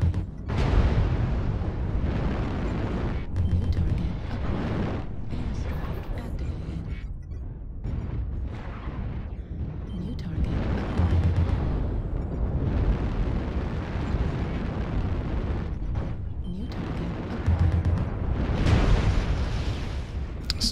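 Video game airstrike explosions rumble in a heavy, continuous roar of overlapping booms and blasts, swelling and dipping in waves over twenty seconds with no clear gaps.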